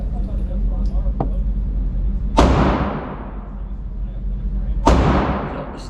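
Two loud gunshots from a Springfield Hellcat pistol at an outdoor shooting range, each a sharp crack trailing into a long decaying echo, spaced a couple of seconds apart over steady background rumble.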